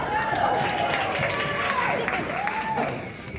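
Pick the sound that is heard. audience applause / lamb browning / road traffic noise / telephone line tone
audience applause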